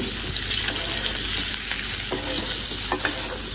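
Onion and eggs frying in a pan, a steady close sizzle with occasional stirring scrapes and light clicks running throughout, no voices.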